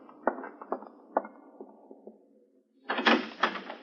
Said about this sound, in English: I opened the door of the study and walked in